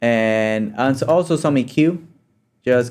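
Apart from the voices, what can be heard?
No distinct noise like a dog, phone or traffic.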